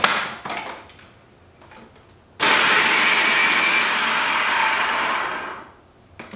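A food processor blending vegan taco filling starts abruptly after light clatter and runs as a loud, steady whir for about three seconds before winding down.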